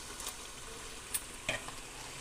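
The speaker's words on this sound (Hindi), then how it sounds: "अब इसमें दाल डालेंगे, दाल डालेंगे" Lentils go into sizzling fried masala for dal makhani, giving a faint, steady sizzle with a few sharp clinks of stirring.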